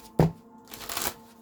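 Tarot cards are shuffled and drawn close by: a sharp riffle snap, then a softer sliding flutter, quiet and alone.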